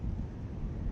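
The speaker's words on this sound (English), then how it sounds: "It is crazy windy out here" Strong outdoor wind buffets the microphone in a steady, low, roaring rumble with gusty surges, close and continuous for the whole second.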